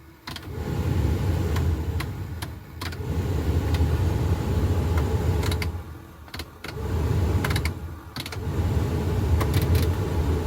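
A 2003 Mitsubishi Galant's blower motor runs with the key on, a steady broadband whoosh of air that dips briefly twice before resuming at an even level; no one talks.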